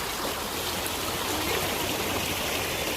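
Flowing water of the Chalakudy river near Athirapilly, a steady broadband rush with no pauses, moderately loud and continuous throughout, with no voices.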